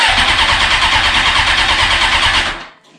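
A Suzuki GSX-R 750 motorcycle engine cranks on the starter with a loud, fast, steady whirring churn. It runs for about two and a half seconds, then stops without catching.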